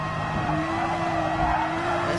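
A V12 GT3 race car in a racing video game wails at high revs, steady and loud, with a sustained engine tone and tire noise throughout.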